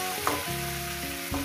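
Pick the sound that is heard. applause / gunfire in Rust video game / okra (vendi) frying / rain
okra (vendi) frying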